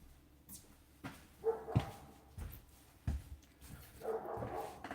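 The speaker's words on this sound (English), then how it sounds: "Enough barking." A dog indoors barks and yips in short separate bursts, several sharp barks with a whimpering edge, fairly close but not loud, with quiet gaps between them.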